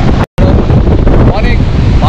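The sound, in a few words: strong wind on Kuakata sea beach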